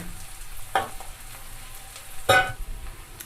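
Chopped ginger hits hot oil for a mustard greens saag, giving a steady low sizzle with two bursts of louder crackle and stirring near the start and about two-thirds through.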